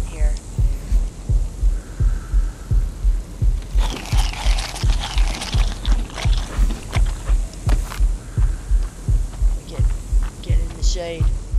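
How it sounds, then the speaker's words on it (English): A heartbeat in ARK: Survival Ascended thumps in a steady, even rhythm all the way through, low and throbbing beneath a hum, with a brief burst of other game noise in the middle. "I can hear my heartbeat."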